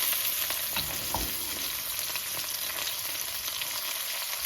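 Mushrooms fry in a pan with a constant soft sizzle, a few faint scrapes and bumps as they are turned, and no voices.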